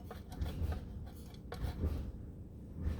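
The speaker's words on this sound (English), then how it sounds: "I have some fresh parmesan. I'm going to grate some of that in here." Fresh parmesan cheese grated into a bowl for garlic parmesan seafood bites, a series of quiet, irregular scraping rasps with soft low thumps, close up and without talk.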